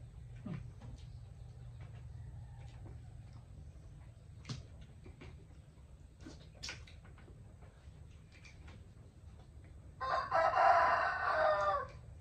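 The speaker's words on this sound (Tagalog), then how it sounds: "Tilaok na yung manok mo." A rooster crows once near the end, a loud harsh call rising over a steady low hum and scattered small knocks.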